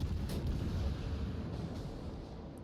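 Heavy naval artillery fire in a warship battle game, with a destroyer under fire from a broadside as a carrier strike arrives, rumbling as dense continuous booms and low gunfire, loud and sustained.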